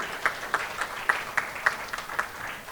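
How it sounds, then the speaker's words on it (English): An audience at a Women & Technology panel event claps for volunteers, with distinct sharp claps standing out at a steady rhythm over a thin, moderately quiet layer of applause. "Big round of applause for these volunteers"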